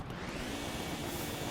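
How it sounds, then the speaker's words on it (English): A vacuum in the Luigi's Mansion video game runs with a steady, dense whooshing roar, loud and unbroken for a brief moment with no talking. "you also want to vacuum it, even though you just smacked it"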